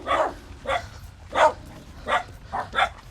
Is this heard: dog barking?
yes